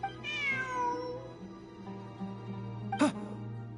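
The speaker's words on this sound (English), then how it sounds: "Look, a cat." A cat meows in Genshin Impact, one drawn-out, wavering meow over a steady game music background, followed by a brief sharp click near the end.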